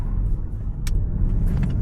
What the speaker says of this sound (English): Got that car coming.